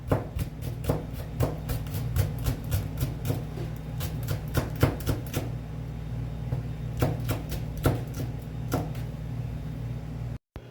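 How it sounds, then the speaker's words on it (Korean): A kitchen knife slices whole Cheongyang chili peppers diagonally on a cutting board, giving a steady run of close, crisp chopping taps over a low background hum, with no talking. "통으로 어슷 썰어줍니다."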